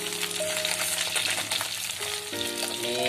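Fresh ikan sepat fish fries in oil in a pan, a loud, steady close sizzle with light crackling and some stirring throughout.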